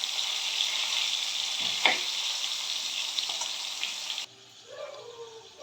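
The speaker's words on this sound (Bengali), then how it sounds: "আমি একটু আলুগুলোকে উল্টিয়ে দেবো যাতে বাকি দিকগুলো ভালো করে একটু ভাজা হয়ে যায়।" Potato pieces frying in hot oil in a pan while being turned over: a loud continuous close sizzle with a brief clatter, then a sudden drop to a quieter, softer crackle.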